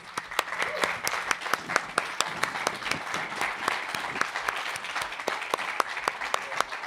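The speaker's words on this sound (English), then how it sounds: "Round of applause." A live podcast recording at a music festival draws a round of applause: a crowd's steady clapping with distinct individual claps punching through, fairly quiet and continuous throughout.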